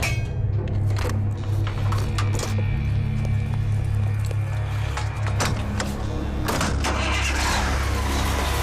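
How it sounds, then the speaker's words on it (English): A diesel truck running on cooking oil cranks and fires up, then settles into a loud, steady low rumble that carries on without a break. "this truck and any other diesel-powered vehicle can stay on the road"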